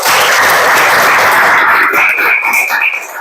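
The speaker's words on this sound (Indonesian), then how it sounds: "Tepuk tangan buat kita semua." Students applaud together in a classroom at the end of a lesson, loud, dense clapping that holds steady and then thins out toward the end.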